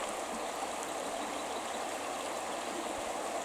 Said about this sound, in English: you can simply listen to my voice and to the voice of the flowing water